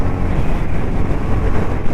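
A motorcycle rides slowly along a smooth concrete road in Sribhumi, Assam, with a loud, continuous engine and road rumble mixed with heavy wind buffeting on the microphone.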